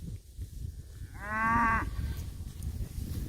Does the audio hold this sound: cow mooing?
yes